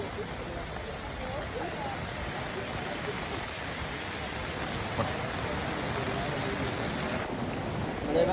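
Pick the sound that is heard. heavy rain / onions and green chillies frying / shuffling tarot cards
heavy rain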